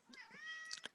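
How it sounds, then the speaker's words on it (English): A house cat gives a single short meow, faint and close, with a slight rising then falling pitch and nothing else around it. "have a cat in front of me who is trying to get on the camera"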